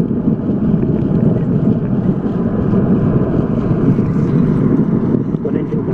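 Rocket engines thunder during the NASA Orion EFT-1 launch of December 5, 2014, a loud, steady, unbroken rumbling roar heard from a distance, with no distinct voices above it.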